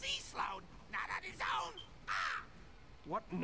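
Crows caw in the Elder Scrolls Online game, several harsh close calls in short bursts with talk between them.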